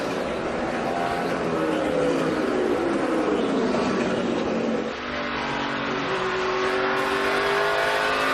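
Stock cars at the 2012 Federated Auto Parts 400 NASCAR race roar past in a loud, continuous engine drone with rising and falling pitch as cars sweep by.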